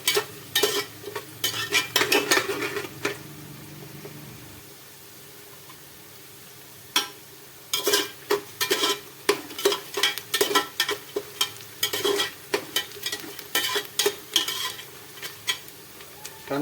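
Onions fry in a pan for veg biryani, sizzling softly while a spoon scrapes and stirs in repeated bursts, with a quiet pause midway before the brisk stirring resumes.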